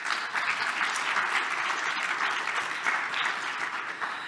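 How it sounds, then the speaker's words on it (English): Conference audience applauding steadily throughout, a dense sustained round of clapping with no speech over it. "Let's give them a round of applause."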